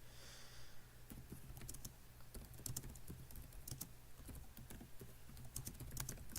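Rapid typing on a computer keyboard, a quiet, irregular stream of close key clicks and taps over a low steady hum, with no voices.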